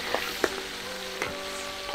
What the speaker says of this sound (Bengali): তেলটা গরম হয়ে এসেছে, এবার মাছটা তেলে ছেড়ে দিচ্ছি।